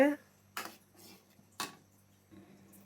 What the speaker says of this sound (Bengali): এখন অনেকক্ষণ ধরে এভাবে নাড়তে হবে